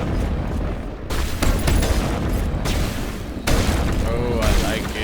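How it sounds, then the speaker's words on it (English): Heavy shotgun-like weapon blasts in the video game Mass Effect, with loud booming bursts repeating every second or two over dense battle noise, and someone talking during the shooting. "That's almost like a shotgun."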